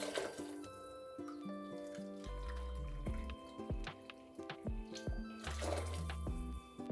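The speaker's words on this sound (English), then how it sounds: "I'm putting in 4 cups of water." Several cups of water poured from a measuring cup into a pot for making stock, with close splashing and trickling in separate pours, plus drips and clinks between them.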